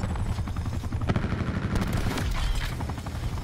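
A helicopter in Call of Duty Black Ops 4 gives a steady, loud rotor thrum throughout, with scattered gunfire crackling over it.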